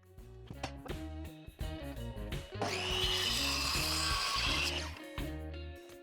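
A power tool trims pallet wood legs to 200 with one loud buzzing cut of a few seconds between short bursts of rhythmic tool noise, close up and without talking.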